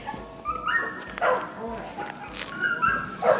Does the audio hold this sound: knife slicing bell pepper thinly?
no